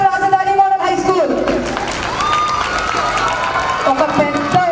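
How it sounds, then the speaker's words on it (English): Audience at a school annual day breaking into applause and cheering, a broad crowd wash with raised voices and shouting mixed in, moderately loud and continuous. "I request for this at least a very big round of applause from our Rajadhani Model High School."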